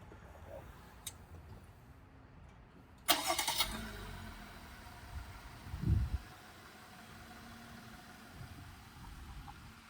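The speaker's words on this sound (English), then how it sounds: "we get in the vehicle, start the car" A 2018 Jeep Wrangler engine cranks with a sharp burst and catches, then settles into a quiet idle with a low rumble rising briefly, recorded from inside.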